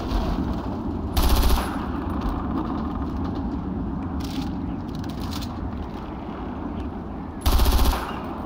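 Machine-gun fire in the video game Far Cry 4: two short, loud bursts of rapid automatic shots roughly six seconds apart, over a steady rumbling game background.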